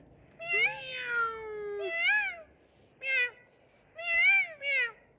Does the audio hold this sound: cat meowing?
yes